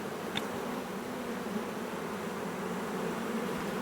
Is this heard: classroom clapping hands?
no